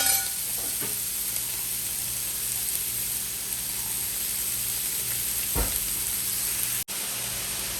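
Onions, green chillies and curry leaves sauté with salt for a mutton curry, a steady close sizzle and hiss with a couple of faint stirring knocks and a brief dropout near the end.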